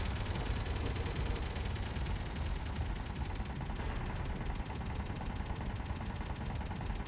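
Assault cannon and turret gunfire in the Assertive Combat Systems video game form a dense, continuous rapid-fire barrage that stays loud and unbroken throughout.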